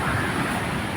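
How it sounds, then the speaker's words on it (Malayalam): Sea waves crash and roar steadily onto the beach at Kozhikode, a loud continuous wash of surf with no voices. "നമ്മുടെ കടൽ ഇങ്ങനെ ആർത്തിരമ്പി വരുന്ന കണ്ടില്ലേ?"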